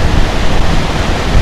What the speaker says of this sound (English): We're just sitting here at the edge of Tapeats Creek